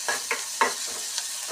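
Masala for egg gravy sautéing in a pan: a soft continuous sizzle broken by a few quick scraping stirs of a spoon, close and fairly quiet, with no talking.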